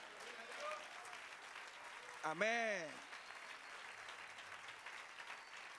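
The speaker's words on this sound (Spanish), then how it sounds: "Dale otro aplauso." A church congregation applauding during a sermon, a steady wash of clapping throughout with one voice calling out briefly in the middle.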